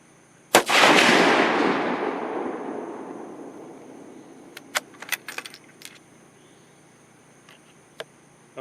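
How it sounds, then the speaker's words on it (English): A single loud suppressed .308 Winchester rifle shot through a Griffin Armament Optimus silencer, a sharp crack with a long reverberant decay rolling off over several seconds, followed by scattered small metallic clinks. "Now I'm going to give it 3 shots with the suppressor installed."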